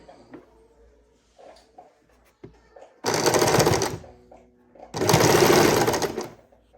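Sewing machine stitching a saree blouse in two loud whirring runs of about a second each, separated by quieter handling noises, with soft clicks and rustles before the first run.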